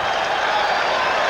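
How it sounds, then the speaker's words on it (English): A baseball crowd at Shea Stadium during a Mets–Dodgers game in 1990, erupting after a strikeout, a dense wash of cheering and applause, loud and steady across the whole moment. "The crowd goes wild here at Shea."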